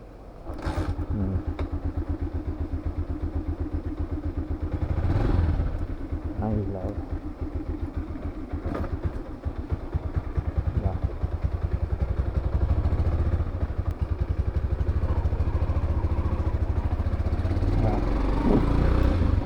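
A kick-started Honda TMX 125 motorcycle engine chugs and idles steadily throughout at close range, with someone talking over it.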